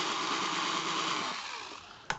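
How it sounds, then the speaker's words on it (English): Screws being driven into an RCF Monitor 5S speaker cabinet: a steady, close whir that gradually winds down, followed by one sharp click near the end. "So what I'm doing is driving all the screws, just putting all the screws roughly in place to begin with"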